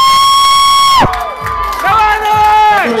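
Crowd cheering and shouting at a bartending flair show, loud bursts of yelling and whooping that come in waves, starting after a sustained tone cuts off.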